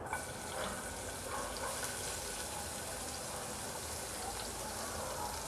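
Chopped onion hitting hot oil in a pan while cooking fish head curry, a steady broadband sizzle and crackle that holds evenly throughout, close and moderately loud with no pause.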